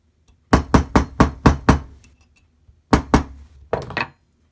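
Sterling silver ring hammered on a small anvil: five sharp metallic strikes in quick succession, a pause, then three more blows, close and loud with short ringing decay.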